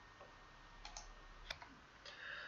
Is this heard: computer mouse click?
yes